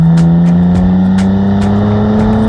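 Third-generation Bentley Continental GT engine accelerating, a loud, steady roar with a strong low drone and rising tone, no talk.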